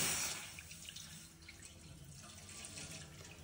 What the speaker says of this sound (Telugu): ఒక హాఫ్ లీటర్ దాకా పాలను పోసుకోండి.